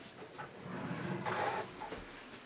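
A bedroom dresser drawer holding jewelry and hair clips slides open or shut with a soft scraping rush in the middle and a few light knocks before and after, all quiet and close.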